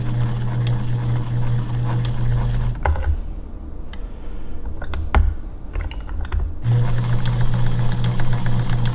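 A Kenmore 1207 sewing machine runs in steady, buzzing bursts, stopping for a few seconds in the middle before starting up again, loud and close with no talk.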